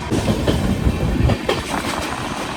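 Sealdah Humsafar Express on its inaugural run, heard from inside a third AC coach: a loud, continuous rumble with steady clickety-clack of wheels over rail joints throughout, no voices.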